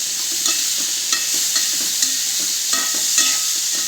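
Cauliflower frying in hot oil with a loud, steady hiss, broken by light spatula taps and stirs about every half second, heard close with no voices.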